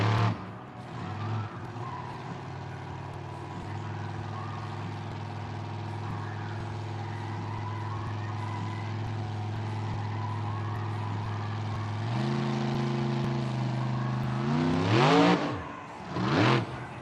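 A Monster Jam truck, Excalibur, pops off kicker blocks into a nose wheelie in an arena, its engine droning loud and steady, then revving harder near the end with a rising roar and a sharp burst.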